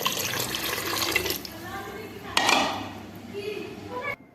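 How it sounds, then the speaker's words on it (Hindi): Water runs and splashes into a pot for a few seconds, with a metallic clink and someone speaking over it. "तो ये मैंने ऐड कर दिया पानी"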